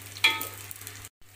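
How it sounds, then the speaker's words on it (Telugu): Nethallu, small dried fish, frying in a pan: a soft close sizzle with a brief stirring scrape, over a low steady hum, ending in a short cut to silence. "ఇప్పుడు నెత్తలు వేగాయండి, వేగాయో లేదో చూద్దాం"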